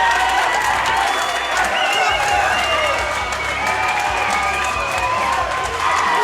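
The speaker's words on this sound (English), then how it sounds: "And the crowd has erupted." A fight crowd at an XFC mixed martial arts event roars and applauds loudly and steadily, a dense wall of cheering and clapping with commentary voices underneath.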